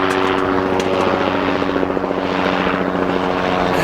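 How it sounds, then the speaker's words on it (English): A helicopter passes over a bay where boats lie at anchor, its steady rotor thump and turbine whine loud and close throughout, with no talk. "a helicopter, no doubt"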